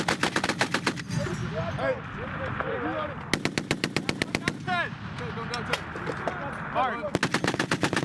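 Marines fire machine guns on a military range, long rapid bursts of sharp gunfire cracking close and loud, separated by pauses with shouted commands and talk between them.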